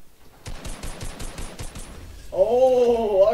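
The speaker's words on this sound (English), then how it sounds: "Oh, okay, shotgun fights." Shotgun fight in Fortnite gameplay, a rapid run of sharp gunshot blasts followed by a louder whooshing, tonal game effect, close and alone without talking.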